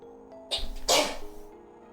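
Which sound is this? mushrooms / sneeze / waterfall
sneeze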